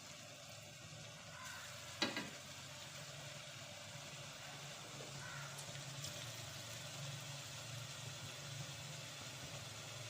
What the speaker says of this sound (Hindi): अब हम इन वड़ियों को हम फ्राई करेंगे।